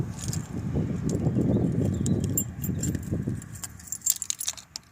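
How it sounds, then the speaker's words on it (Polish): Keys jingle and clink close up, then a few sharp metallic clicks near the end as a car key turns in the rear door child lock of a Fiat Panda II. "macie kluczyk od samochodu i on tutaj idealnie pasuje obracacie"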